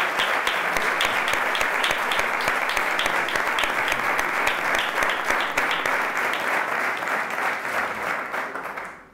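Loud, dense audience applause at a bullfighting tribute talk, steady and sustained for about nine seconds before fading out at the end.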